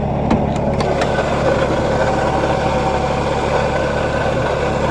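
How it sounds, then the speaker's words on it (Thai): A carburetted Datsun Sunny 120Y with an A12 engine idles steadily up close, a constant low rumble with a few faint clicks near the start. "เครื่องยนต์ A12 ครับ"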